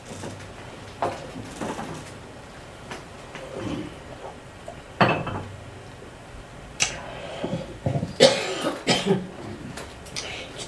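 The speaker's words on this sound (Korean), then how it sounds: "오늘 기침이 나오네" Several separate coughs and throat clearings from a preacher during a sermon, spaced irregularly, with quieter room sound and faint murmuring between them.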